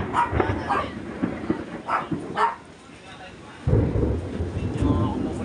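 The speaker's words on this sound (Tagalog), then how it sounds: "Medyo kumukulog." Thunder rumbles low and heavy during a storm at a house where a cobra got in, with a deep roll swelling near the end, while people talk and a dog barks over it.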